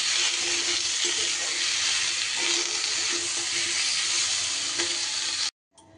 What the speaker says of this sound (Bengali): একটু হালকা হাতে এইভাবে নাড়াচাড়া করে নেব